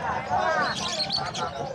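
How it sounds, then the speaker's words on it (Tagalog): Caged birds at the Bocaue pet market give brief chirps and coos under nearby talk and general crowd chatter. "Gaganda ng mga ibon, oh."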